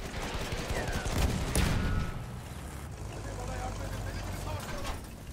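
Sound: gunfire from an anti-tank soldier in the video game Battlefield 1

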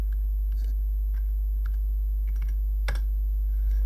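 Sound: typing a password on a computer keyboard

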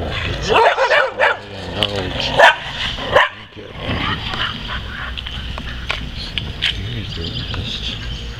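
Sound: dogs barking

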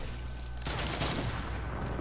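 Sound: gunfire from the video game Fortnite

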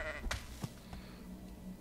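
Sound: sheep bleating while being killed in the video game Sky Saga

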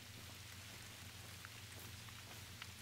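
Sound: rain in video game theHunter: Call of the Wild, Mississippi

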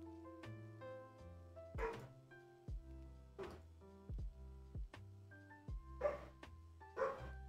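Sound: dog barking

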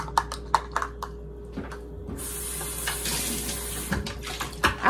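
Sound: water running while rinsing

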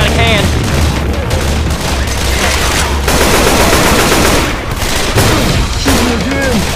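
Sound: gunfire in the video game Left 4 Dead 2

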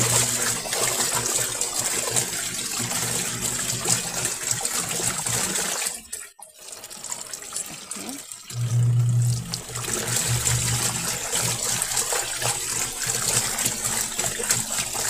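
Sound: water while hand-washing laundry with homemade liquid soap

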